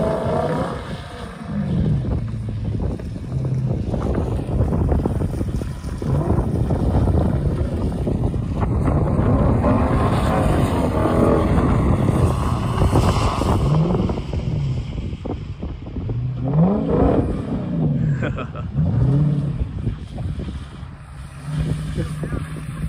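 A Lexus IS F being driven, a continuous loud engine drone with rising and falling revs and heavy wind rumble, under occasional voices.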